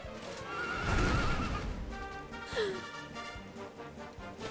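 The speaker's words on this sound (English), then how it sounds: "How the hell did he get a horse up here?" A horse in the video game Dragon Quest 11 gives a loud, drawn-out whinny followed by a snort, with a few hoof clops around it.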